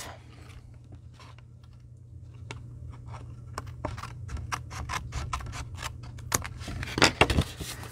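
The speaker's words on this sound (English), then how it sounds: "trim it off." Scissors trimming cardstock paper for a handmade strawberry-themed card: a quick series of crisp, close snips that grow denser and louder toward the end, over a steady low hum.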